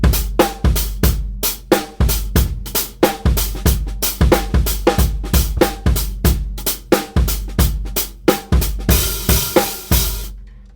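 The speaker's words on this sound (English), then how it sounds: "Here's how you can use RhythmBot to help you master that super drunken half-swung eighth" A drum kit plays a loose, half-swung eighth-note beat, punchy kicks and snares alternating with hi-hats in a steady groove, close and loud with no voices.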